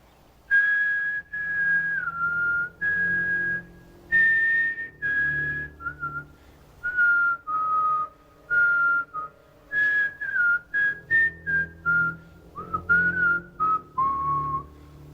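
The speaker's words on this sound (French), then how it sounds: "Quelqu'un qui sifflait." Someone whistles a slow, wavering melody, phrase after phrase, fairly close and clear, with faint background tones underneath.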